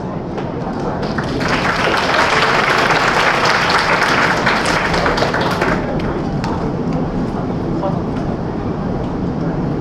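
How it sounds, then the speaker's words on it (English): Audience at the MUIDS Business Forum 2023 gives a round of applause, a dense wash of clapping that swells, holds for several seconds, then tapers off into lighter scattered claps. "Please join me for another round of applause"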